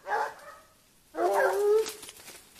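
Hunting dogs on a wild boar hunt bark and yelp nearby, two short outbursts separated by a brief pause, with no talk over them.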